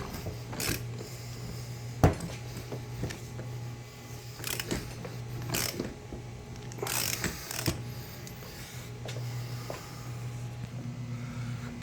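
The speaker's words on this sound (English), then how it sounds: "Okay, so I'd extend my ratchet out here. It's getting pretty tough." A ratchet wrench turns a bolt during engine removal on a 2004 Suzuki Forenza 2.0 L. Close metallic clicks and clanks come in irregular bursts over a low steady hum, with no talk.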